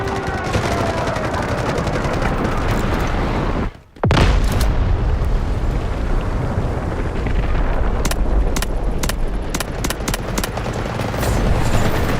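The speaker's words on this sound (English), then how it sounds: "Artillery barrage incoming" Artillery barrage in the Delta Force shooter game, loud continuous explosions and rumbling blasts with a brief dropout, then sharp repeated impacts and gunfire crackling near and far.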